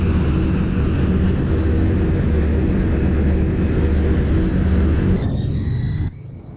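A Douglas World Cruiser propeller plane rolls along a runway in a flight simulator game, its engine droning loudly and steadily for several seconds before the sound abruptly drops away near the end.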